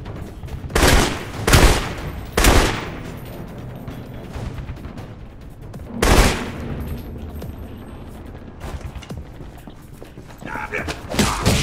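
Gunfire in the Alpha Protocol video game during a Moscow mission, with several loud bursts of shots and thumps spread across the span over background game noise.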